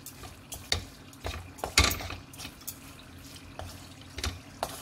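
Vegetable pulao with fresh coriander being stirred in a pan, with a series of distinct scraping and stirring strokes over a low, steady sizzle.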